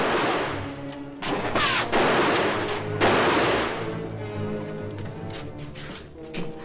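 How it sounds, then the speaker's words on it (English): Guns fire in a 1955 western film, a burst of sharp cracks and crashes with scattered loud impacts over a rumbling movie soundtrack. A few clusters of shots ring out close together, then fade into lingering noise. "guns firing"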